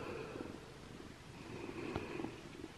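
A kitten purrs steadily and continuously at close range, a soft low rumble running throughout without any talk.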